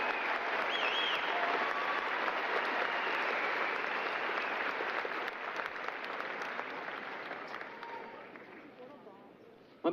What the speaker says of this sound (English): how about another round of applause for our graduating seniors